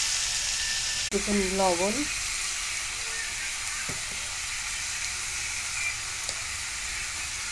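Cut bottle gourd with slit green chilies and turmeric frying in hot oil, a steady loud sizzle throughout, with a brief voice near the start.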